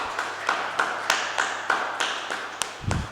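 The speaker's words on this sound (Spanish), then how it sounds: "¿Por qué no le damos un aplauso al Señor" A church congregation claps in slow, spaced beats, roughly one strike every half second, each a sharp broadband tap over a low steady hum, ending in a short burst of murmur.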